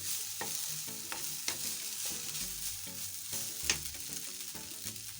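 Spoon stirring beef stew as it fries in a pot, with repeated scraping strokes and clinks over a steady close sizzle, no voices.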